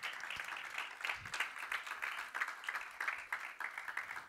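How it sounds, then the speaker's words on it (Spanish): A church congregation claps hands together during a worship service, a rhythmic, moderately distant patter of many hands that holds steady throughout, with faint voices underneath. "Dale palmas al Señor."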